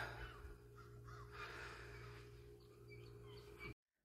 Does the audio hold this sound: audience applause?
no